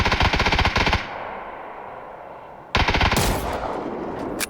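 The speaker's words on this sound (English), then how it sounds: "He gets killed by a shotgun up there." Gunfire in PUBG, two loud rapid bursts of shotgun blasts, the first cut off around one second and a second burst resuming near the end after a quieter, lingering tail.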